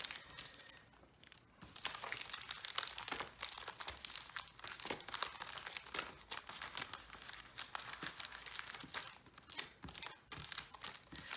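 Foil booster pack wrappers for Cardfight!! Vanguard trading cards crinkle and rustle close up, packs shuffled and interwoven by hand in a steady run of crackling bursts lasting several seconds, with no talking.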